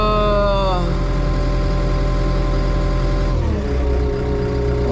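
Loader engine idling, a loud low diesel rumble with steady harmonic drone that shifts pitch partway through as it settles, continuous and close throughout.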